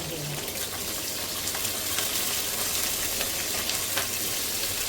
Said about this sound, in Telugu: ఇది కొంచెం లైట్ బ్రౌన్ వచ్చే వరకు వేయించాలి.